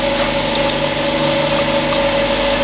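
Surface grinder with its abrasive wheel spinning slightly off centre while grinding a collet block square: a steady, loud mechanical drone with a sustained tonal whine and no talk.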